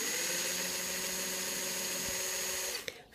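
A small drill bores fine holes in an earring, a continuous high whirring hum with a steady tone, close and fairly quiet, stopping abruptly near the end.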